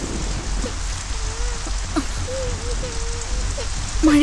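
Steady rain falls outdoors in a broad, continuous wash of drops, with a few faint tonal calls drifting over it and no talking.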